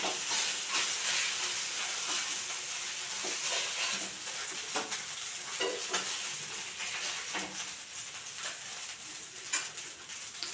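Mackerel masala frying in a pan, a continuous bright sizzle with scattered crackles and the occasional clink of stirring, fairly faint and with no one talking.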